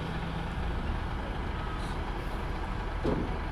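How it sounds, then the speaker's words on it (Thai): A Hino Profia ten-wheel truck rumbles at a steady low idle nearby on a worksite, with a brief hiss of air and a faint beep near the end. "ตัวนี้เป็น ฮีโน่โปรเฟียครับ เป็นสิบล้อหัวล่าครับ"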